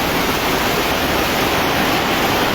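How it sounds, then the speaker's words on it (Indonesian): Flood water from an overflowing street drainage gutter rushes across a road in Air Kuning, Ambon, after heavy rain: a steady, loud, broadband roar with no voices. "Jadi gotnya ini meluap, saluran gotnya meluap."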